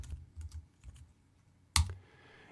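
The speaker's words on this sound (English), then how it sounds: "we can type in that time code" Keys clicking on a computer keyboard as a time code is typed into an audio editor, a few soft taps followed by one sharper, louder keystroke near the end, with no talking.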